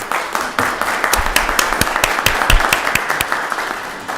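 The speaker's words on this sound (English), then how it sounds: "If we can give them all a round of applause." Applause at a county board of commissioners meeting, a crowd clapping steadily with sharp individual claps standing out, loud and close, with no talk over it.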